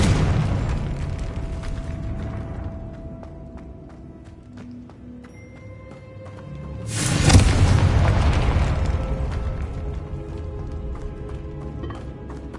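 A Confringo blasting spell detonates in the game Hogwarts Legacy with a sudden loud boom and a broad rumbling burst that slowly fades, set against a low continuous ambient drone.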